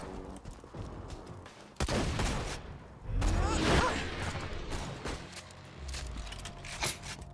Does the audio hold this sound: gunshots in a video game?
yes